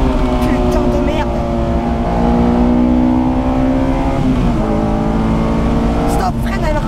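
A Honda S2000 RFY Yamamoto track car accelerates hard close by, its engine note climbing through the gears with brief shift breaks, loud and continuous.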